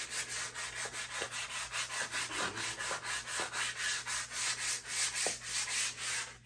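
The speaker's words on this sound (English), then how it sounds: "I'm going to sand the whole handle down, minus that bucking right there." Rhythmic back-and-forth sanding strokes rub along a wooden axe handle on a wedge banger project, steady and close, about two strokes per second with occasional light knocks.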